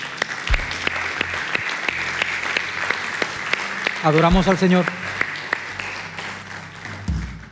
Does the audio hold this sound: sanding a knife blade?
no